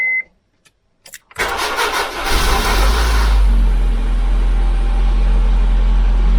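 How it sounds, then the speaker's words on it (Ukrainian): A Honda Civic that will not start after the wipers were switched on gives a few brief clicks, then cranks and fires into a loud, close engine roar that settles into a steady, rumbling run. "давайте спробуємо заводити"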